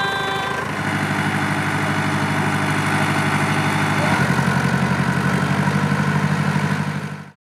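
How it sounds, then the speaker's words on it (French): Tractor engine running as it drives off toward a Provence wine cellar, a loud, close, low diesel rumble with steady throbbing pulses that swells briefly midway, then cuts off abruptly at the end. "Vous me faites monter sur le tracteur ?"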